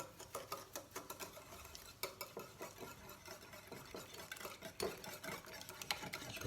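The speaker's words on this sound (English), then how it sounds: "I'm going to put the eggs and the sugar together, and we're just going to whisk this" Eggs and sugar whisked together in a bowl for a bread and butter pudding, a fast run of rhythmic clicking and scraping strokes against the bowl, close and steady with no talking.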